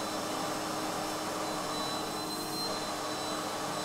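A vacuum cleaner sucks air from a plastic bag with a person sealed inside, giving a loud, continuous, steady roaring whine that stays unchanged throughout with no pauses.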